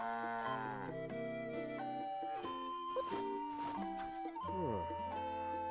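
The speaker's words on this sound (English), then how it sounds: "I like this horse." A horse in the video game Zelda: Echoes of Wisdom whinnies, with a couple of drawn-out, falling neighs over game music and a voice speaking in the background.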